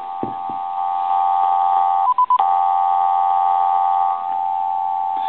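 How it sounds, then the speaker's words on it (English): Steady dial tone from a hand-carved Chinese dragon telephone with a carved handset, humming continuously for several seconds after a couple of handling clicks and broken briefly by a short tone burst midway. "Give you some dial tone"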